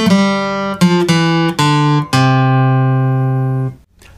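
An electric or acoustic guitar plays single sustained notes of C Ionian, six or seven distinct plucked tones in a steady sequence, loud and close, the last note ringing out before stopping.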